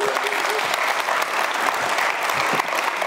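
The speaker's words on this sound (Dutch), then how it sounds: "Geef hem een applaus." Audience applause welcoming a pitch speaker at a creative startup pitch event, dense continuous clapping from a sizable crowd, loud and steady for the full length.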